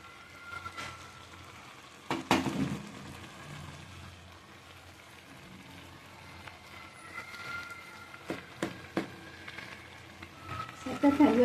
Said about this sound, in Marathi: दूध आटेपर्यंत आपल्याला ते शिजवायचं.